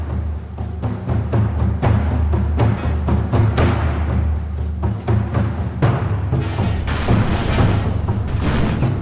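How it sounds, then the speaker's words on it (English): Ships' anti-aircraft guns fire repeatedly at an A6M2 Zero fighter, giving a dense run of booming thuds and blasts at an irregular, rapid pace, loud and without talk. "the ships start firing at the A6M2"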